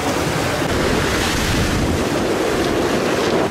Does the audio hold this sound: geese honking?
no